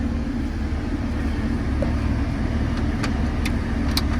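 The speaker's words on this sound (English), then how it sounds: "Blower motor functions in all speeds." A 2004 Jeep Wrangler's blower motor runs as a steady, continuous fan hum with low rumble, broadband and even throughout, with a few faint high clicks near the end.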